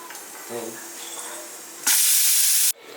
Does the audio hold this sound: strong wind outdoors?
no